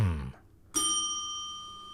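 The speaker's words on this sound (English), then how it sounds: "we ring the bell when we get a drink." A single bright ding of a small bell rings out after a short low sound, its clear tone sustaining and slowly fading.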